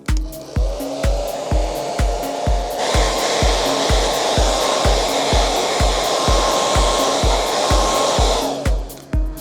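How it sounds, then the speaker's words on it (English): A hair dryer blows steadily on a Vela Discolite DK-990 boombox to activate adhesive, a loud close whoosh that steps up in intensity partway, with a regular low thumping beat pulsing underneath throughout. "a little bit of blow dry in action here"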